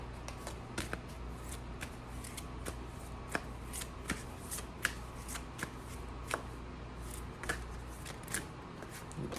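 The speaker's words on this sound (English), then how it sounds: "these are so big, I feel like I can't shuffle them with my small hands." Large tarot cards shuffled by hand, giving a steady run of soft papery riffles and crisp flicks close up over a faint low room hum, with no talk.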